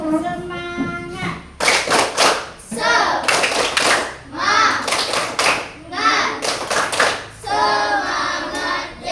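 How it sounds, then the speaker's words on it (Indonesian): A classroom of students performs the tepuk semangat routine at a religious-education lesson: rhythmic bursts of group clapping alternate with loud chanted voices, close and energetic throughout. "Tepuk semangatnya bagaimana?"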